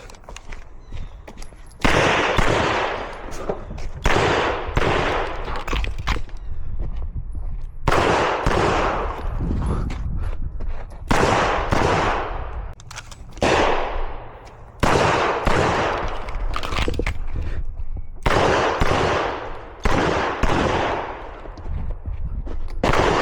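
Pistol gunfire from a Shadow 2 during a shooting drill moving between left and right targets, a series of sharp, loud shot bursts in quick groups separated by brief pauses, with echoing reports across roughly twenty seconds.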